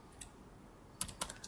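Keystrokes on a computer keyboard while entering a SQL delete command in phpMyAdmin: a lone tap early, then a quick cluster of sharp clicks in the second half, close and fairly soft.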